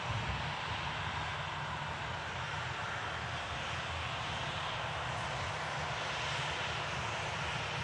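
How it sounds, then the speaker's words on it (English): A Virgin Airbus A350 rolls out on takeoff, its engines giving a continuous broad roar with a low rumble beneath, steady and fairly distant throughout. "we'll capture this Virgin 350 departure"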